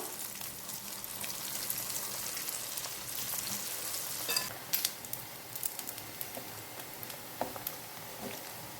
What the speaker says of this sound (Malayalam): ബാക്കിയുള്ളതും ഇതേപോലെ ചേർത്തിടും വറുത്തെടുക്കാം